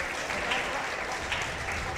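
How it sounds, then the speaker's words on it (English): Dense applause from a large crowd at an esports Halo: Reach grand final, steady and loud throughout with no pauses. "let's give a big round of applause to both these teams"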